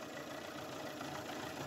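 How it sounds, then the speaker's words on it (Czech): A 1.2-litre four-cylinder petrol car engine runs steadily while the alternator charges at around 60 amps, a dense even idle drone with a deeper strained tone, close up and continuous with no talk. "i na chodu toho motoru jde slyšet, že mu to dobíjení dává dost zabrat"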